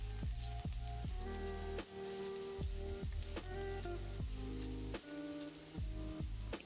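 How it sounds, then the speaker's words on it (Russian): Onion frying in vegetable oil gives a steady, dense sizzle with crackling spatters and occasional louder pops, close and continuous with no voices. "Обжариваем на растительном масле репчатый лук для придания вкуса"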